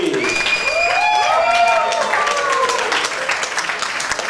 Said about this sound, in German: Großen Applaus, Emily Kollegin.